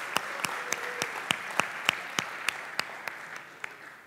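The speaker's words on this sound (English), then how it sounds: "he deserves another round of applause" Conference audience applauding at a developer event, a steady run of distinct claps in even rhythm, moderately faint and alone.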